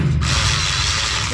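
Bolts being started on an engine with a power tool, a loud, continuous close-up whirring buzz that runs without pause.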